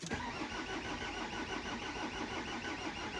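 An engine cranks steadily with a rapid, repeating mechanical churn that never catches, draining the battery, continuous and fairly loud throughout with no speech.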